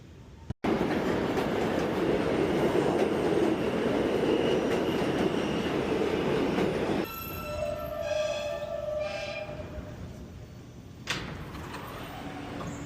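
A New York City subway train roars loudly with broadband rumble, then slows with tonal motor whine and squealing as it pulls in; a brief clank near the end.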